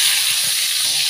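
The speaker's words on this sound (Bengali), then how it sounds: "তেল গরম হয়ে গেছে, এখন আমি মাছ দুইটা ছেড়ে দিচ্ছি।" Two tuna fish go into hot oil, giving a loud, even sizzling hiss close by that holds steady throughout.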